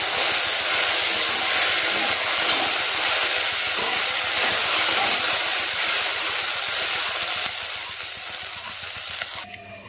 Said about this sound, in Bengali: ওইদিকে ঢেঁড়স ভাজা হচ্ছে